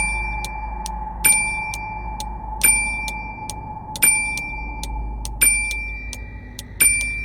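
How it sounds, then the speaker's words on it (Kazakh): A call bell in an animated horror story rings in five evenly spaced bright dings, each ringing out briefly over a steady low hum, with no voices. "қоңырау соға бастады."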